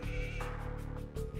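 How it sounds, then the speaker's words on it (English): Sheep bleating in Age of Empires 2, short wavering calls layered over steady game music and ambience, clearly heard without talk. "some sheep. Let's see, is there another sheep here?"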